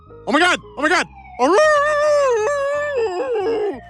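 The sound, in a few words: cartoon dog howling imitating a siren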